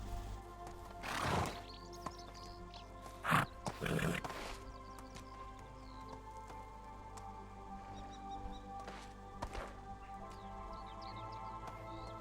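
A horse in the Medieval Dynasty video game snorts and whinnies in a few short bursts over a quiet, steady ambient game backdrop with faint bird calls, and there is no talking.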